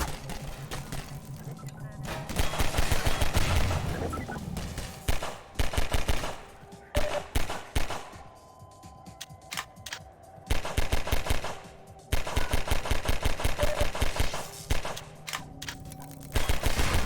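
Gunfire in a video game, with a sniper rifle among the weapons: rapid, loud bursts of repeated shots in long rhythmic volleys separated by brief pauses, with continuous game sound underneath.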